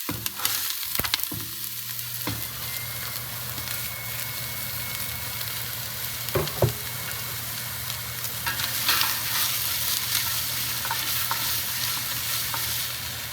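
Onion sautéing in a scalding hot pan with a little oil for pork pozole, giving a steady close sizzle and frying hiss with a few sharp clicks and stirring knocks, no voices.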